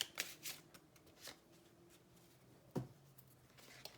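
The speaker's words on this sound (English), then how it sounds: "you guys see and hear me shuffling these cards" Tarot cards being shuffled by hand, a series of soft papery riffles and flicks with quiet pauses in between, close and fairly faint, with a low steady hum underneath.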